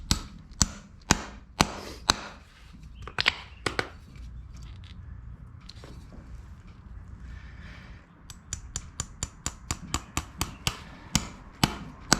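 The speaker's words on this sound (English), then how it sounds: "what I look for when I'm nailing on shoes" A farrier hammering nails to fit new horseshoes on a dressage horse: sharp metallic taps in quick spaced runs, a quieter stretch in the middle, then a rapid even series of strikes, close and clear.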